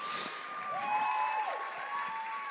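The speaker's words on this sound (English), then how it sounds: "Can we put all that applause together for all the acts tonight?" Applause from an audience at a live comedy night at The Bedford, a steady wash of clapping with some whistles or cheers over it, lasting throughout.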